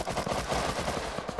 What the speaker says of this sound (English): They're all trying to break down a door with gunfire.